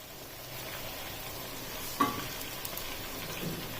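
Chicken frying in oil with tomatoes tipped in, a constant close sizzle with a sharp splash and clink as the tomatoes hit the pan, then the hiss carrying on.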